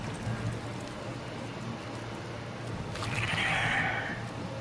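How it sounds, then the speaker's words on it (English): Roach, a horse in the video game The Witcher 3, whinnies in a drawn-out, wavering call over steady rain and soft ambient noise. "Got my trusty horse, Roach."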